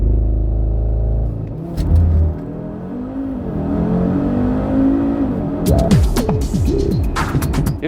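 A 2010 Audi TT RS with its 2.5 TFSI turbocharged five-cylinder engine accelerates hard, revs rising and falling through gear changes, loud and close, with no talking over it.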